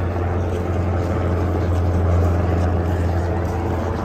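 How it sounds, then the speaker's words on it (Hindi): A security helicopter flying overhead above the plain of Arafat during Hajj, a steady loud rotor and engine drone that holds continuously without pause, with no talk. "ये हेलीकॉप्टर की आवाज़ आ रही है। ये सिक्योरिटी वाला हेलीकॉप्टर है जो ऊपर भाग रहा है"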